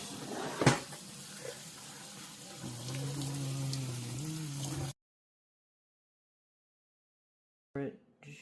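Gentle stream of water poured over fragile popping boba in a bowl, a close, steady trickle with a rising pour tone that stops abruptly, followed by silence and then a brief splash or clink near the end.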